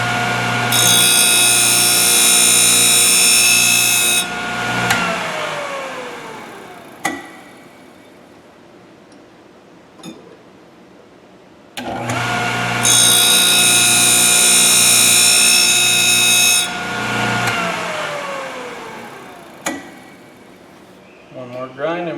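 A Thorvie AV-40 sharpening machine grinds the flute of a router bit in two long, loud passes, each a bright sustained whine that spins down, with quiet gaps between.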